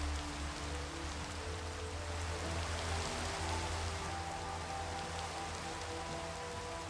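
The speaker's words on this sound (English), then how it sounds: "Of course it's gonna rain on me." Steady rain falls in Minecraft, a continuous hiss of drops on surfaces that stays even and moderately loud throughout with no voices.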